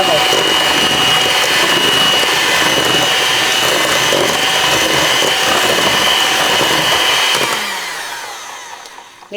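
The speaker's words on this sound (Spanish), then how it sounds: "Y lo batimos nuevamente para incorporar todo." An electric mixer beats cream and milk into tres leches cake batter, giving a loud, steady whirring drone that runs unbroken for several seconds and then winds down and stops.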